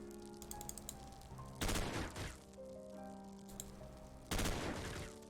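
Gunfire in the video game Xenonauts, two loud bursts of rapid shots a few seconds apart over a quieter humming game soundtrack.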